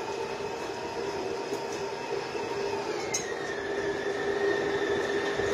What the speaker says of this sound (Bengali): লাস্টের 2 মিনিট একদম ডো হুক দিয়ে হাই স্পিডে এটা বাড়ি হবে